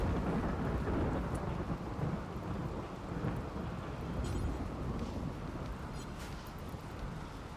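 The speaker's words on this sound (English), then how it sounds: "One of my chickens just got struck by lightning." In the colony game Rimworld, a lightning strike brings a thunderstorm rumble under steady rain and wind noise, a broad continuous roar that stays fairly even throughout.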